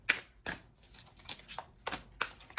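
Shuffling a large deck of cards by hand: a series of crisp riffling bursts, about six quick flurries at uneven intervals, close and fairly quiet with no talk.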